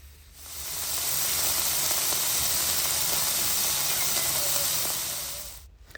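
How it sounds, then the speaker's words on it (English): Beef frying in a pan, a continuous bright sizzle and hiss that rises quickly, holds steady and cuts off at the end. "So I'm just going to fry it until it becomes brown."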